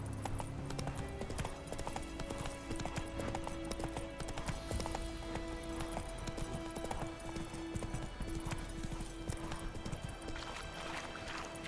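Horse hooves clip-clop at a steady gallop in The Witcher 3 Next Gen, a continuous close rhythm over a dense game music and ambience bed, with a brief whinny.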